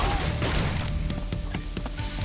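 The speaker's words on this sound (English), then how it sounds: "Our dude's gonna start throwing grenades out." Grenades exploding in the Yet Another Zombie Survivors video game, a dense chaotic barrage of repeated bangs and booms layered over continuous in-game gunfire and music, loud and busy throughout.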